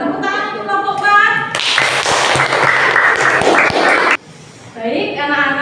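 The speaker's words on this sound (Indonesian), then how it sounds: "Ya, tepuk tangan untuk kelompok 4." A classroom of children gives group 4 a burst of steady clapping lasting a few seconds, with talking just before and after it.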